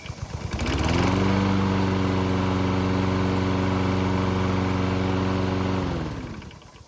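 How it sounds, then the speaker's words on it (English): A hot Toro lawn mower engine fires up and runs at a steady, loud, even drone for about five seconds, then cuts off and fades. No one speaks over it. "it's pretty obvious that this engine is running just like it should be now"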